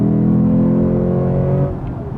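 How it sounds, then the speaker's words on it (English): A 2016 Lexus GS F pulls hard under acceleration, its deep engine note loud and close, rising steadily in pitch before easing off with a slight dip in level. "Love that sound of acceleration with that Lexus right now."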